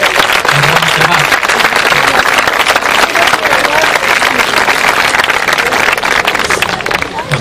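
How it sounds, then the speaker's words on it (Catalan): A crowd at an outdoor summer havaneres festival in Altafulla claps loudly and steadily for the man who prepares the ron cremat, and the applause fades slightly near the end. "Demanem un aplaudiment per al Pep, que cada any es prepara el ron cremat"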